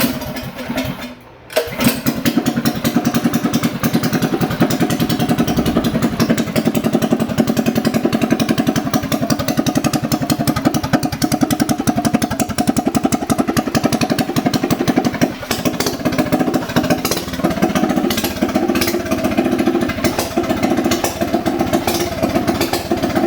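A minibike engine fitted with a 3-piece exhaust fires up after a short pause and settles into a loud, steady, rumbling idle that runs close and continuous for the rest of the stretch.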